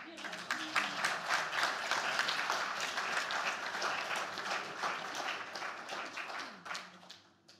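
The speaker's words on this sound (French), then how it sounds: "On peut les applaudir." Applause for a children's group named Arc-en-Ciel, with many hands clapping briskly and steadily before the clapping thins and fades near the end, while voices murmur underneath.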